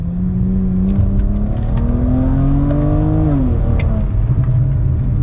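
A BMW E92 335i with the N54 engine, downpipes fitted and a stage 1 plus tune, accelerating hard with exhaust rising in pitch through a gear, dipping at a shift, then continuing its steady drone; no talk.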